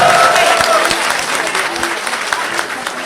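Loud, dense applause from a crowd, fading slightly over a few seconds, with a voice speaking briefly above the clapping.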